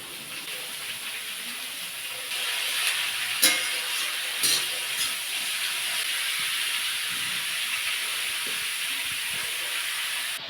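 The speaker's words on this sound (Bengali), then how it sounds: "এবার কেটে রাখা বাঁধাকপিটা দিয়ে দেবো।" Cut cabbage sizzles in a pan with lightly fried potatoes and turmeric, a soft continuous hiss with a couple of sharp crackles partway through and no talk.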